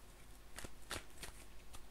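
Tarot cards are shuffled close up and quietly, a few quick riffling bursts of papery flicks spaced irregularly over under two seconds.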